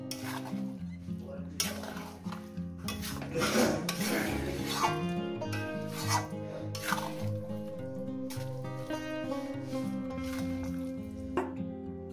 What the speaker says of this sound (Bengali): তো বন্ধুরা গ্যাস ধরিয়ে দিয়েছি আমি, আর এবার আস্তে আস্তে চিকেনটাকে নাড়তে থাকবো